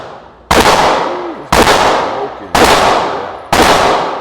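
Four loud, close gunshots from a suppressed Glock 44 fitted with a Huxwrx 22 Ti titanium suppressor at a shooting range, evenly spaced about one second apart, each a sharp crack with a short decaying tail, with no talking.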